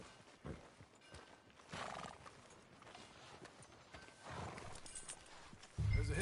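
Horse hooves clip-clopping with a whinny, in Red Dead Redemption 2 gameplay on a town street, heard faint among ambient game sounds, with a louder thump at the end.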